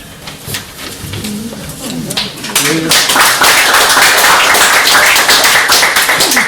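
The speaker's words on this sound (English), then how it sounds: "you didn't clap for anybody else's first" Audience clapping after a poetry reading, a dense burst of many hands that swells to full volume midway, following a few seconds of quieter background murmur.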